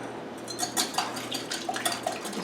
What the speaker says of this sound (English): Make the meringue by beating the egg whites, adding the salt to them, and beating until stiff but not dry